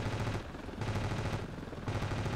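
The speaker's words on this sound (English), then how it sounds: "oh, there's a helicopter shooting." Helicopter gunfire in the first-person shooter Ravenfield, heard as two dense bursts of rapid automatic fire separated by a brief pause, loud and close with a steady low rumble underneath.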